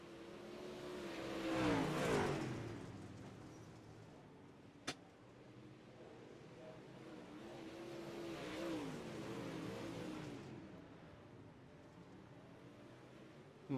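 Modified dirt track race cars in a feature race roar past at a distance, engines swelling and fading in two broad passes with a sharp crack midway and a steady background drone.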